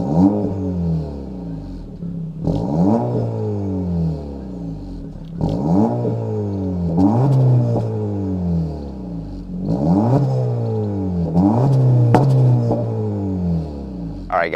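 A 2026 Acura Integra A-Spec with a 1.5-liter turbocharged four-cylinder revs repeatedly, about five loud rising-and-falling blips in a steady rhythm, each followed by a short settle back to idle.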